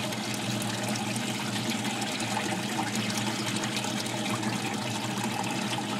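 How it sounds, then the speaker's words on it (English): Water from an aquaponic grow bed spills into a sump basin, a steady close trickling and splashing rush that holds even throughout with no voices. "it's no longer overflowing into the sump basin, but the other 3 are still going."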